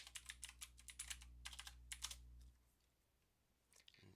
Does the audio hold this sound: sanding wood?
no